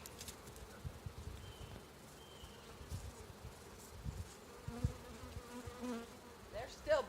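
Agitated honeybees swarming around a beehive, a close, fluctuating buzz of many insects with individual bees droning past, heard alone.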